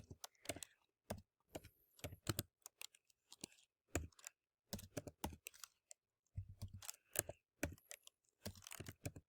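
Bursts of quick, close clicking keystrokes on a computer keyboard as numbers are entered, arriving in irregular clusters separated by short pauses, fairly quiet with no voice over them.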